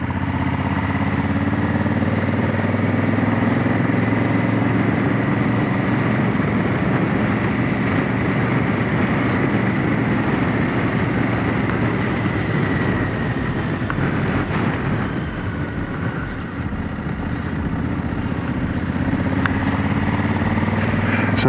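A motorcycle climbs the Great Dividing Range near Coffs Harbour with a loud, continuous engine drone and steady road and wind roar. The engine note shifts slightly partway through the ride.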